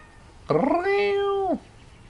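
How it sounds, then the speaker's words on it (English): A single drawn-out, clear cat meow from the Assassin's Creed Origins game, loud and close, rising then holding steady for about a second before falling off, with quiet background otherwise. "Little cute kitties."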